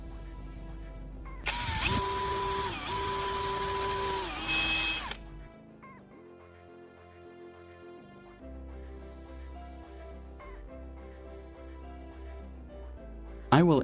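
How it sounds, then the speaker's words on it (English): A power drill bores holes in a CD and whines loudly for a few seconds, then stops. A quieter mechanical hum with steady tones follows. "Using my drill, I'll carefully bore a hole at each marked spot."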